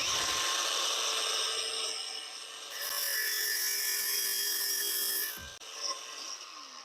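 A DeWalt DCG407N 18V brushless angle grinder runs with a loud, close high-pitched whine that shifts pitch as it loads, spins down briefly, then revs back up before cutting off with a short clatter.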